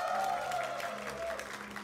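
Wedding guests clap steadily for the couple, a dense, sustained round of applause with a faint voice and music under it.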